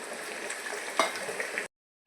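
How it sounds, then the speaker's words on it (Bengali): Whole cumin, chopped onion and spices frying in hot ghee, a steady close sizzle that stops abruptly near the end before a brief sharp knock. "গোটা জিরে দেওয়া হচ্ছে, পেঁয়াজ কুচি দিয়ে দেওয়া হচ্ছে, মশলাটা দিয়ে দেওয়া হচ্ছে"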